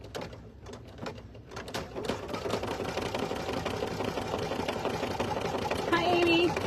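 An embroidery machine stitches around an applique outline, a steady rapid mechanical chatter that runs throughout, with a soft voice speaking over it early on.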